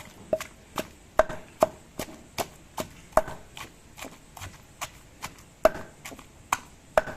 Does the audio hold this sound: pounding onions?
yes